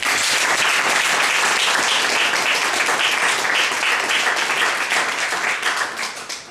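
Audience at a Świdnica literary festival debate applauds the winner: a dense, loud, sustained wash of clapping from many hands that holds steady, then thins and tapers off near the end.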